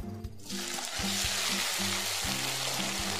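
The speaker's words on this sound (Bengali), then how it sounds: "তেলের ওপর কচুগুলো দিয়ে একটু ভালো করে ভেজে নেব" Lightly steamed taro frying in hot oil with cumin, a loud, continuous close sizzle that swells as the pieces go in, under a faint repeating low hum.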